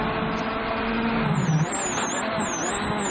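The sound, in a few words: Mads' Ford Fiesta rally car driving on gravel stage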